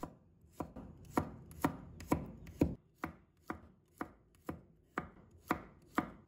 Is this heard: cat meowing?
no